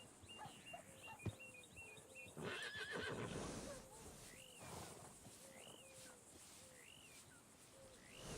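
Quiet whinnies and snorts from a horse in Red Dead Redemption 2, heard with a sharp knock, a scuffling noise and a run of repeated squeaky calls over a faint background.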